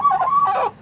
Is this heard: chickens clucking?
yes